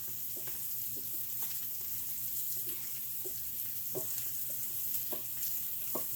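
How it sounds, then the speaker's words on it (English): Steak searing in a pan with salt during a home steak dinner, a steady hiss and sizzle with scattered pops and crackles, close and even throughout, no talking. "that steak is searing up and getting well done there now"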